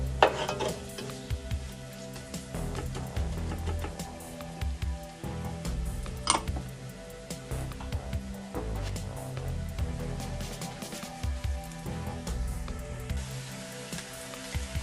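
Chopped onions cook in a pan for aloo samosa filling, giving a continuous hiss of frying with intermittent scraping and utensil clatter as they are stirred, close and moderately loud with no voices.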